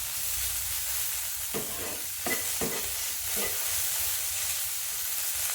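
Bitter gourd being stirred and fried in a pan, a steady sizzle with several distinct scraping strokes of a spatula in the middle, close and alone.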